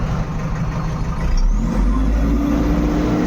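Busy road traffic with trucks and other vehicles passing close by, a continuous loud low engine rumble with a brief air-brake hiss partway through.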